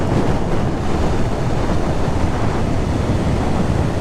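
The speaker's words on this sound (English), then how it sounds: "It's proper windy though." Strong wind rushing past a rider on a Kawasaki H2 SX SE motorcycle fitted with a Powerbronze Double Bubble Airflow screen, a loud, steady broadband roar with no talking.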